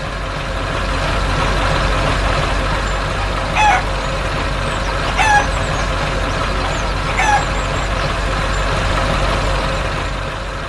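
Three brief chicken clucks sound a few seconds apart over a steady low tractor engine hum as it arrives at a farm barn, moderately near.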